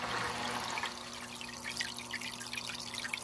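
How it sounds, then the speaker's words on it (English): Water rising up through a water filter, heard as quiet trickling and dripping with soft irregular plinks over a faint steady hum, no one speaking. "So the water is bringing up from the filter"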